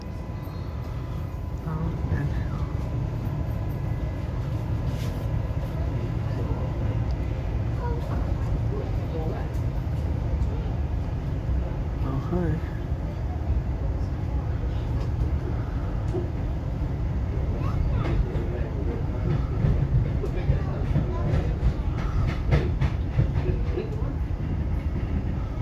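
Redcliffe Peninsula passenger train in motion, a steady low rumble of wheels and carriage with faint clicks over the track, continuous throughout, with occasional voices in the background.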